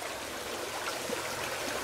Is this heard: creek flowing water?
yes